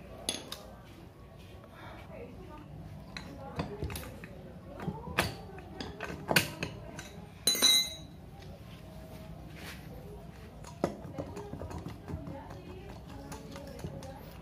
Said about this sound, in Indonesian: kita congkel menggunakan obeng min